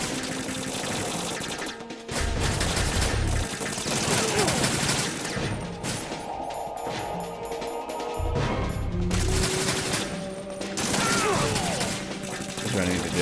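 Enemy gunfire in Metal Gear Solid 2, with dense bursts of shots and crashing impacts running throughout, loud and continuous, layered with game music and effects.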